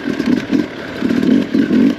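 A close, loud enduro motorcycle engine riding off-road on slick terrain, rising and falling in rhythmic bursts of throttle with a rough, throbbing tone and no talk.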